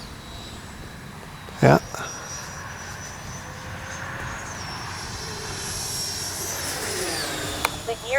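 A Freewing 90mm Zeus RC jet flies overhead with a steady turbine whine that rises and sweeps in pitch as it passes and manoeuvres. A sharp bump sounds early on, and a person speaks briefly nearby.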